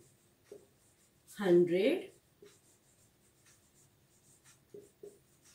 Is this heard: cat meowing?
no